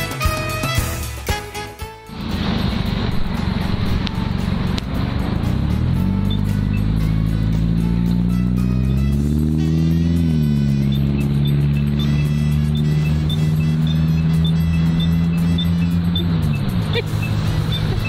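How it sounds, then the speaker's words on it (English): A city bus pulls up in blinding heat, its engine rising to a loud, steady rumble after a brief noisy start, the idling drone shifting in pitch before easing off near the end. "So here comes our bus."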